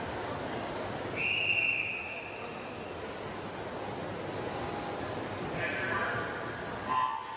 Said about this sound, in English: There is the referee's whistle.